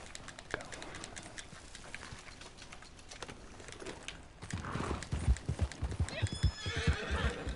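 In a video game, a horse neighs and whinnies, followed by quickening hoofbeats clip-clopping close by over soft ambient sound.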